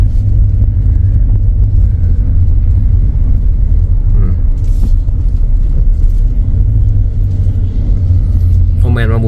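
Steady car engine rumble and road noise from inside a vehicle on a road near Vientiane, Laos, continuous and loud throughout with brief lighter ticks near the end.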